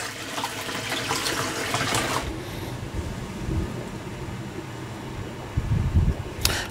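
Titan TTB583PMP sump pump pushing water out through a pipe, a steady rushing flow with motor hum that drops in level partway, then a brief splashy burst near the end.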